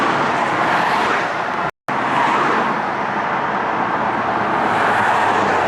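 Steady roar of freeway traffic streaming past at the roadside, loud and close, a continuous wash of tyres and engines with one brief dropout partway through and no voices.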